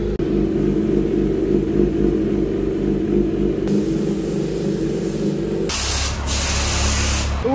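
Water spray blasts steadily onto a motorcycle during a wash, a constant loud hiss over a low background rumble that shifts in intensity partway through.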